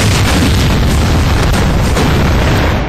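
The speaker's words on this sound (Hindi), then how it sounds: "माना कि ये सब पटाखे हैं" Firecrackers blasting in a loud, continuous roar of overlapping bangs, dense and saturated throughout with no pauses or voices.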